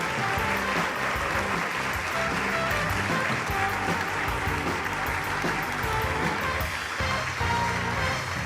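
Steady, dense applause from an audience at the 2023 Zeynep Cemali story competition award ceremony, continuous clapping at a constant level filling the room throughout.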